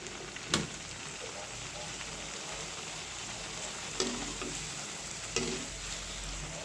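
Luchi, the puffed Bengali flatbread, frying in a pan with oil running low, a steady close sizzle with a few sharp clicks of a utensil against the pan.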